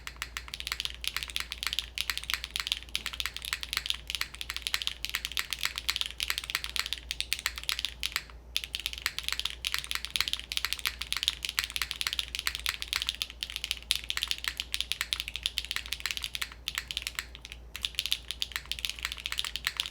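A top-mount mechanical keyboard with HMX Hyacinth V2U switches on a PP plate is typed on steadily and quickly at close range, making a dense, fairly loud clatter with only brief pauses.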